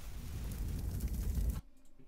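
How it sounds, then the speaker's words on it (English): Layered match-strike and fire sound effect forms a dense, low crackling rush that roars steadily for about a second and a half and then cuts off abruptly, leaving a faint tail. "So I got a fire sound effect and a match sound effect"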